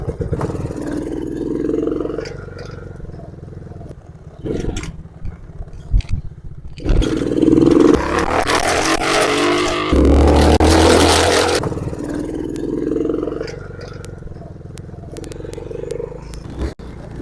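A Tao Motor 125cc ATV four-wheeler ridden by kids, its small engine buzzing and revving up and down, nearer and louder in the middle stretch, with some talking.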